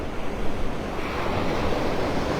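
Steady roar of ocean waves breaking on the Gulf of Mexico shore at Vanderbilt Beach in North Naples, Florida, a continuous wash of surf with wind buffeting the microphone and no voices.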